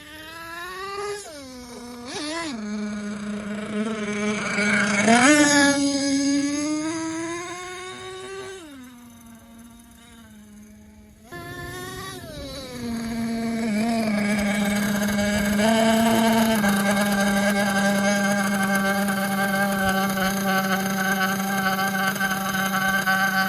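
A nitro RC car with an MGT/MTA4 engine and SH P3 .28 motor holds a steady high-pitched buzz at half throttle. The pitch rises and falls in several surges, dips briefly, then settles into a loud sustained drone.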